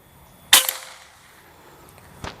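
A single sharp shot from a Pasopati GTAMO PCP air rifle cracks out loud and close, fading quickly, followed by a faint click a moment later.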